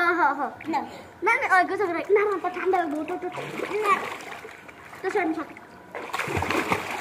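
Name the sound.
child swimming and splashing in a pool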